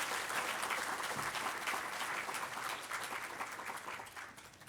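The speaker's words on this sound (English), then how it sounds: "Let's give our guests one big round of applause." Audience applause welcoming guests at a Lakewood city celebration, a dense, steady wash of many hands clapping that holds loud throughout and fades slightly toward the end.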